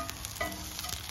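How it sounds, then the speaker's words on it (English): Onions cook in a pan with a soft, steady sizzle and faint crackle over a brief stretch, close by and without any talking. "So these onions have been cooking"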